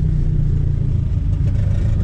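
A turbocharged Chevrolet Chevette engine idles with a low, rough, steady rumble close by, the pitch lifting slightly as the accelerator is pressed lightly.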